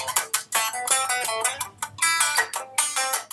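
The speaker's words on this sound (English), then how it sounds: "the sound was rubbish because it was just the sound of the twangy guitar" Twangy electric guitar captured through a Mac's built-in webcam microphone, a thin, bright run of plucked notes and strummed chords with sharp attacks and short decays, played alone for a few seconds.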